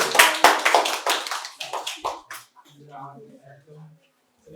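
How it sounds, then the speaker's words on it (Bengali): A quiz prize-giving audience at a Santiniketan medical college claps in a short, lively burst that dies away after a couple of seconds, then quiet voices and murmurs follow. "জোরে হাততালি।"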